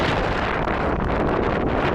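Strong outdoor wind on a cold day in Alanya, roaring steadily and buffeting the microphone close up for the whole stretch, with no voices.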